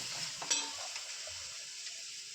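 Fish pieces for a fish curry fry in hot oil in a pan, giving a steady close hiss of sizzling broken by a few soft stirring clinks, with no talking.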